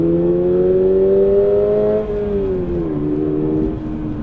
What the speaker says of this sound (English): The sound in the BRZ is, it's definitely kind of vacuum cleaner like.